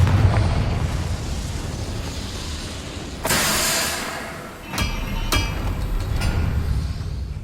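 Confringo fire spell explosion in Hogwarts Legacy, with a sudden loud whooshing burst midway over a steady rumbling game background, followed by a couple of sharp cracking hits.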